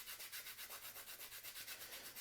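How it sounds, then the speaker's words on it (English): Graphite pencil lead sanded to a long, steep taper, a soft raspy rubbing repeating in a steady quick back-and-forth rhythm, close and fairly quiet with no talking. "I'm sanding evenly around the whole surface of the lead"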